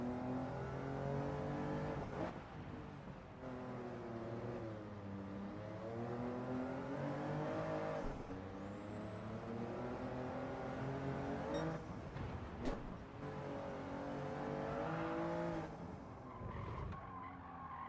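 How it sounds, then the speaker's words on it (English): A race car in Gran Turismo 7 accelerates and shifts through gears during a time trial, its engine revving loudly in repeated rising sweeps with tire squeal and skidding between bursts. "I want the car accelerating really early out of there."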